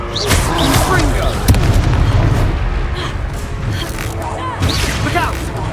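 A Confringo fire spell bursts in the Hogwarts Legacy video game, a loud booming blast with a crackling fiery tail, followed by a second burst later under background game noise and brief voices.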